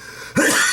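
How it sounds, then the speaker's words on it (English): A single harsh cough bursts out abruptly after a quiet moment, loud and close, with a rough breathy tail. "excuse my cough"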